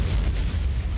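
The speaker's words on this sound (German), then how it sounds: "Warum explodiert das Schiff gerade?" A ship exploding in the video game No One Lives Forever: a deep, rumbling explosion roars continuously, heavy low booms crackling under a broad noisy wash, loud and close, with no voices.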